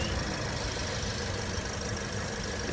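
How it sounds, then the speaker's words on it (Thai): A 2019 Toyota Sienta 1.5V engine idles with a steady, even hum and light mechanical knock, continuous throughout with no talking. "อันนี้น้ำก็สตาร์ทรถด้วยนะคะเครื่องเงียบกิ๊บเลย"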